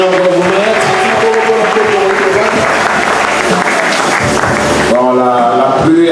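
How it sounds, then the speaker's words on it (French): A church congregation applauds for the Lord in sustained, dense clapping beneath a voice and music, before the applause fades and a voice continues alone. "Applaudissez pour le Seigneur pour vous mettre."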